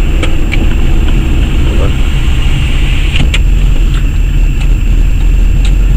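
A Traxxas Rustler RC car screams at top speed, a loud, steady high-pitched motor whine running throughout with brief sharp spikes, and a person's voice is partly audible beneath it.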